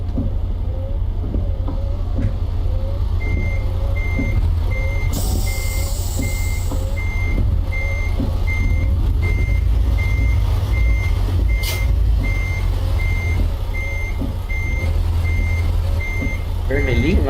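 A truck backs out of a parking space, its reversing alarm beeping at a steady, evenly spaced rhythm over the close, continuous low rumble of the engine, with a brief hiss of air partway through.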